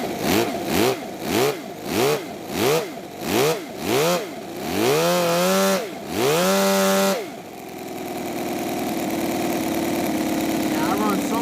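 A mini V12 model engine fitted with exhaust pipes runs loud and close, revving in a quick series of rising bursts that build to a sustained high whine, then settles into a steady, rough idle.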